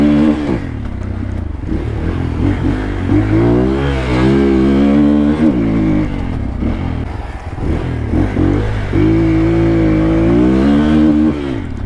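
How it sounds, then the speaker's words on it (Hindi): Royal Enfield Bullet motorcycles on a short practice lap over rough, broken ground, the loud close thumping engines rising and falling in pitch as they rev and change speed, continuous throughout with no voices. "गाइस, यहाँ पे राहुल है और यहाँ पे मैं हूँ, तो हम लोग ना एक छोटा सा लैप करने वाले हैं।"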